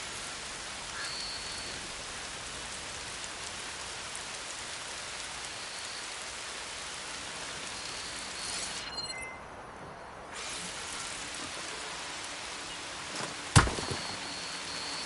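Steady rain falls in Horizon Forbidden West, an even hiss of drops that dips briefly and ends on a sharp close click.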